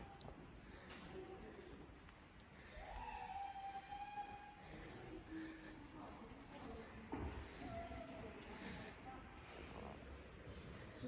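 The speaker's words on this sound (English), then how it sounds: "We've also got a steam engine here." A steam locomotive rumbles steadily nearby at the Bo'ness and Kinneil Railway with a constant low roar, faint tonal squeals and clanks over it, and people talking in the background.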